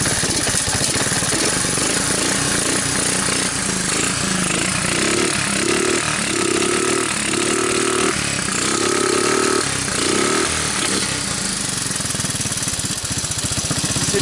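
A previously waterlogged 1985 Honda ATC 200S three-wheeler, its carburetor once badly fouled, runs steadily with a loud, rattly, continuous engine drone for the whole stretch, no voices over it.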